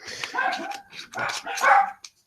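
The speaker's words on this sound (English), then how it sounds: "My dogs are barking. What are you barking at?" Dogs barking in a short burst of several yips and barks, close and fairly loud, with no talk over them.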